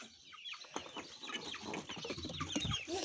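Chickens and young chicks cluck and cheep close by in a farmyard, a busy overlapping chatter of short calls with no talking.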